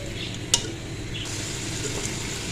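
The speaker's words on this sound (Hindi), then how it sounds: "ये लीजिए आलू को भी मैंने भून लिया मेथी के साथ।" Potatoes frying with fenugreek leaves in a pan for aloo methi give a steady close sizzle, with a couple of soft stirring clicks and no talk over it.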